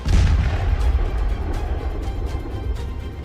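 Artillery shells fire rapidly in the Russia-Ukraine war, making loud, overlapping booms that merge into a continuous heavy rumble with sharp bursts throughout.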